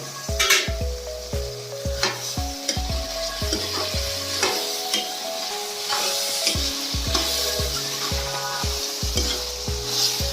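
Onions, chillies and grated ginger-garlic sauté in a pan for a village-style brinjal junumulu curry and are stirred with steady scraping strokes over a continuous sizzle, with a low tonal hum underneath throughout.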